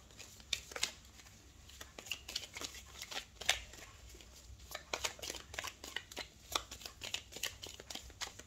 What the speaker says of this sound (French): le temps que je pose toutes les cartes.